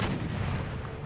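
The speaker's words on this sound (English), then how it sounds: "both my howitzers are going to carcass shot the mortar" A howitzer firing carcass shot at a mortar in Empire Total War, heard as a single dense, roaring blast of artillery that fills the short moment loudly.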